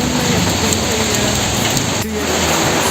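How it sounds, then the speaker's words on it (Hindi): Heavy rain pours down near a water palace in India, a loud, dense and steady hiss of drops hitting surfaces throughout. "गाइस देखो यहाँ पर बहुत बारिश हो रहा है।"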